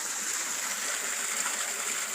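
Water flowing out of a deep cave makes a steady, close, even rush with no breaks, and no voices are heard over it.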